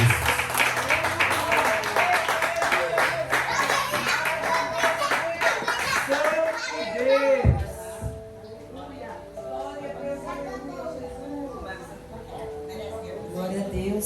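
Church congregation applauding in praise during a service, a dense burst of rhythmic clapping for several seconds that cuts off abruptly, followed by a voice speaking over quieter room sound.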